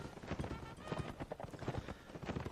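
Horses gallop with rapid, dense clip-clop hoofbeats during a Napoleonic Wars video game line battle, close and busy, with a faint neigh and a voice talking over the action.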